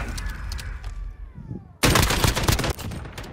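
Gunfire in a Modern Warfare gunfight match, with distant scattered shots giving way to a loud, close burst of rapid automatic fire lasting about a second.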